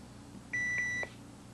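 A CAT terminal gives a short, clear electronic beep after an unrecognised key press, pitched and brief with a tiny break in the middle, alone over a faint room hum.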